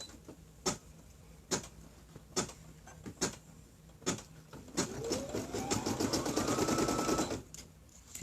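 An embroidery sewing machine that has been giving trouble stitches with a steady, regular ticking, then speeds into a fast, louder rattling run of stitches near the end.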